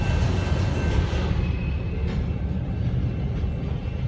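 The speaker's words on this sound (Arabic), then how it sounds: "ده شكله قطر بضاعة." A freight train rolls past on the railway, a loud, continuous rumble of wheels and cars close by, unbroken for several seconds with faint squealing tones on top.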